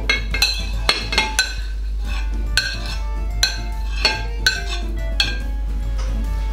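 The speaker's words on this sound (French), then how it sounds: "on mélange le tout" Utensils clinking and scraping against a bowl while oil and smoked herring are mixed for a cold holiday appetizer, irregular sharp taps and clinks over a low steady hum, close and alone.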